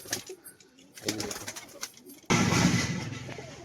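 Soft cooing from pigeons for sale mixes with light clicks and shuffles, then a sudden loud, steady rushing noise takes over for the last stretch.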